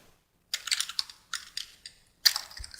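Quick bursts of keystrokes on a computer keyboard, clattering in three or four short runs separated by brief pauses, close and clear with no talking.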